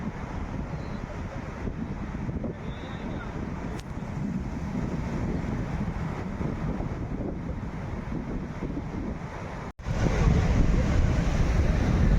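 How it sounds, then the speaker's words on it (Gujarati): Steady roar of sea surf breaking on the shore at Dwarka, with heavy wind buffeting the microphone, continuous and loud, with a brief dropout near the end. "દરિયાનું લહેરો આવે છે"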